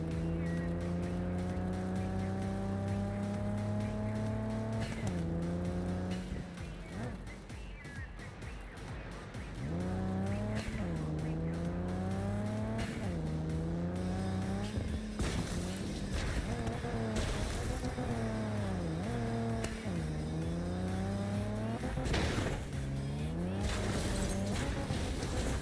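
Car driving in the Cyberpunk video game, a steadily revving engine rising and falling through gear changes with repeated tire skids, loud and continuous throughout.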